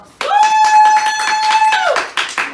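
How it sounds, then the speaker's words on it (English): Applause from the Baylor APAC Class of 2020 at their promotion ceremony: a steady patter of many hands clapping, with a long sustained whistle or cheer ringing over it for most of the burst before it fades. "I think those three words alone deserve a round of applause."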